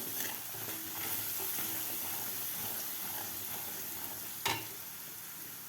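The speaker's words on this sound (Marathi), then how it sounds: "हळद व्यवस्थित मिक्स करून घ्यायची आहे" Turmeric being stirred into a sautéed green masala paste for a spicy fenugreek curry, giving a steady soft sizzle with scraping spoon strokes throughout and one brief louder clink near the end.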